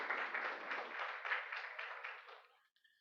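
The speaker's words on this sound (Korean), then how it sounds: "일어나실 때 박수로 환영해 주시기 바랍니다" Applause from a church congregation welcoming a guest, a dense patter of clapping that holds steady then tapers off and fades out.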